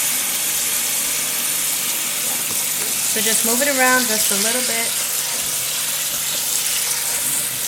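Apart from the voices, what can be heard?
cold tap water running over cooked macaroni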